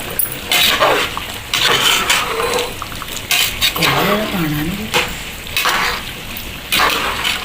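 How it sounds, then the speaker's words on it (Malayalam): A spoon scrapes and clinks against a pot while chicken biryani with fried raisins and cashews is stirred, in loud, repeated bursts. A dog-like whine and brief voice sounds come in partway through. "ഇതുപോലെയാണ് ഇളക്കി കൊടുക്കേണ്ടത്"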